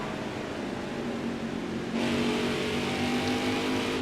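NASCAR Cup race car engine at Iowa Speedway in Nascar Heat 4, a steady loud high-revving drone that jumps brighter and louder midway as another car closes in, with no talk.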